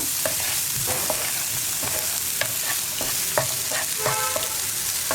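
Carrots for a carrot and long bean thoran are stirred in a pan over a constant frying hiss. A spatula scrapes and clinks against the metal in repeated strokes, loud and close, with no speech.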